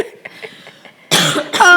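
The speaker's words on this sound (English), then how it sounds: "She coughing right next to me." A woman coughs loudly and close by in a harsh burst, then again a moment later, after some quiet murmuring.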